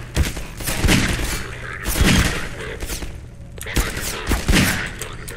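Enemy gunfire in the Half-Life 2 video game: bursts of shots and heavy thumps in rapid clusters, loud and close, with a voice now and then.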